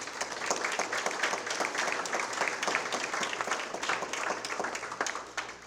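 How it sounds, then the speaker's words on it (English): Applause from a crowd, a dense and steady wash of many hands clapping that holds throughout, then thins slightly at the very end. "they deserve a round of applause"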